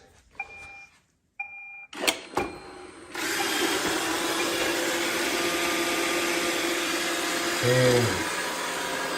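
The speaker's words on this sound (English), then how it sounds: "So I can just click this clean button, and it will start cleaning around the house." An iRobot Roomba 692 robot vacuum beeps a few times as it is started, then its motor and brushes whir up into a steady, moderately loud cleaning hum that carries on to the end.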